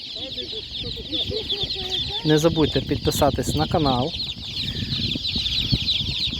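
Chicks at an outdoor animal market, sold at 35 hryvnias each, peep and chirp in a busy, continuous chorus under a voice talking, with a burst of louder calls midway.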